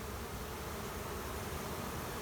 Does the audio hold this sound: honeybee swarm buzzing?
yes